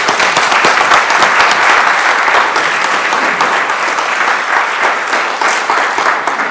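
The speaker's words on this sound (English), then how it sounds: "can I have a round of applause for Bill?" An audience at a police chief swearing-in ceremony applauds loudly and continuously, dense clapping filling the whole stretch without letting up.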